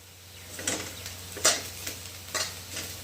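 Coconut and garlic frying in oil while being stirred, giving a steady soft sizzle broken by several distinct scraping stirs at irregular intervals, close by with no talking.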